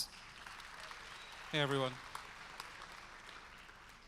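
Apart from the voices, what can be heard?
audience applause welcoming Tony from Polygon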